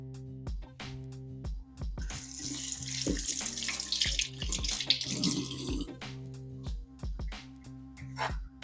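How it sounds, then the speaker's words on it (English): A kitchen tap runs as a sweet potato is rinsed under it, giving a steady splashing rush of water at close range along with scattered knocks and clunks. "Okay, so next, we're gonna give this a quick rinsing."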